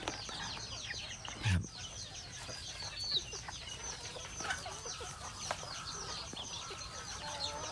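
Free-range native bantam chickens cluck softly at a distance, with scattered short calls and chirps over a faint outdoor background and one brief louder thump.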